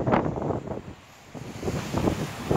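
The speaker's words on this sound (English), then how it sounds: "Windy day." Wind gusting at Venice Beach in Los Angeles, a loud rushing roar buffeting the microphone in waves, easing briefly before surging back, with no voices.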